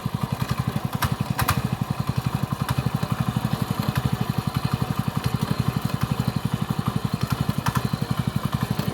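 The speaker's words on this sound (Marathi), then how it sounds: "ट्रॅक्टरने सर्व नांगरतोय" A tractor engine chugs with fast, even, thumping beats while ploughing a farm field in light drizzle, running steady and close with no talk.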